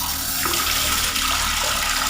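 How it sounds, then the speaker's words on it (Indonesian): Water pours steadily from a tap in a boarding-house room at night, a continuous broadband rush with no break, fairly close and alone. "Keran air berbunyi."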